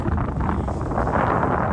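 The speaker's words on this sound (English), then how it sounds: "you can hear how windy it is" Steady broadband wind buffeting a microphone by salt water, a constant low roar with gusty rumble throughout and no voices.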